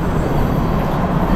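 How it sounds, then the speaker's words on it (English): A train rolls past near an Ontario station, a loud, continuous low rumble and rattle with a steady wash of noise and no pauses. "there's a train going by"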